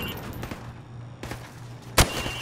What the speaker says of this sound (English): Now, shoot each target while aiming down the sights.